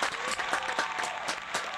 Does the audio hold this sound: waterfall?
no